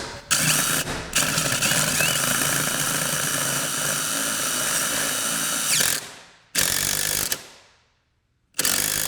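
A power drill whirs loudly in long sustained bursts while driving screws to mount a Chamberlain RJO20 wall-mount garage door opener, stopping twice near the end between short runs.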